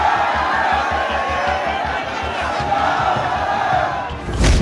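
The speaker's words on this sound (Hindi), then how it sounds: "शोलापुर में हजारों की संख्या में लोग कलेक्टर के दफ्तर के सामने पहुंचकर नारेबाजी करने लगे" Thousands of protesters crowd outside the collector's office in Solapur, shouting slogans together, a dense, loud roar of voices with a steady pulsing chant and a low rhythmic thump beneath it, swelling again at the end.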